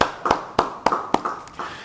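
A church congregation at a Bible study applauds, with a handful of sharp, spaced claps ringing out in a loose rhythm over a short stretch, moderately close.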